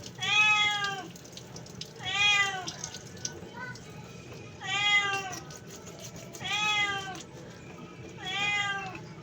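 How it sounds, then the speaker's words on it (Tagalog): Cats meow outdoors in five distinct, evenly spaced calls, clear and moderately close, over a faint background hiss with no talking. "may mga pusa din sa labas eh"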